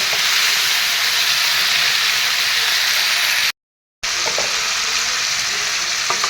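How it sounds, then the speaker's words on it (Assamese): Cauliflower florets frying in hot oil in a pan for an Assamese fish curry with tomato, a steady loud sizzle with faint scraping as they are stirred, briefly cut to silence midway. "এনেকৈ তলপৰ কৰি এফালৰ পৰা লৰাই লৰাই দিম।"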